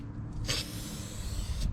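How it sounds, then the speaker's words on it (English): A can of Rust-Oleum Universal Paint sprays a coat onto masonry coasters on a Lazy Susan: one brief, close hiss, then a fainter second puff at the end over low background hum. "I spray a coat from each side."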